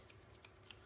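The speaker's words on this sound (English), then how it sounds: "Scissors." Scissors snip several times in quick succession, small sharp cuts during paper crafting, faint and close.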